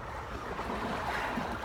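Ocean waves wash against the shore in a steady, soft rushing surge, with some wind noise, heard at low level without voices.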